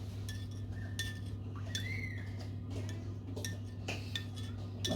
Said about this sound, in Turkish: Bir yemek kaşığı salçanın içine biraz su kattım. Onu güzelce karıştırıyorum.